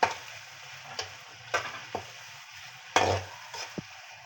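Chicken frying in a pan with crushed chili, turmeric, black pepper and salt, giving a soft steady sizzle broken by several sharp clinks and scrapes of a utensil against the pan.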